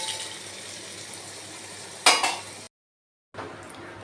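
Fried bori lentil dumplings tipped into a simmering pot of pumpkin and Malabar spinach curry, a short clattering splash near two seconds over a steady kitchen hiss, followed by a brief silence.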